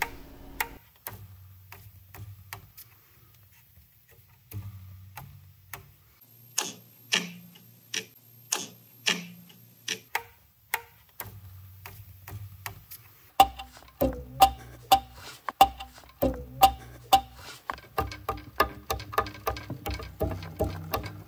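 A 3D printer with its belt system damped by TPU pieces runs through a move sequence, giving soft rhythmic ticking and patter that speeds into dense clicking bursts, close and quiet with no talk.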